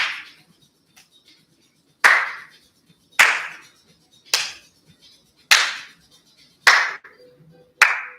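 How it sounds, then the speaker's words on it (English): Sharp, ringing hand claps during a fitness exercise routine come one at a time at an even pace, about seven of them, each snapping loud and close with quiet gaps between. "And you know I like to make noise, so we're going to clap."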